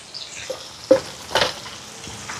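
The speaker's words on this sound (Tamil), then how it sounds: "வெங்காயம் எல்லாம் நல்லா வதங்கிட்டு இதில் வந்து கொஞ்சமாக மாசி கருவாடு சேர்க்குறேன்" Sliced onions and a little Maldive dried fish (masi karuvadu) sizzle in a pan, with soft frying crackle and a couple of stirring scrapes, close and moderately quiet, no talk.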